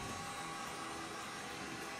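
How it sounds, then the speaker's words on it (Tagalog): A hair dryer blows hot air in one continuous, even roar that stays steady from start to finish. "Ah, mainit. parang blower."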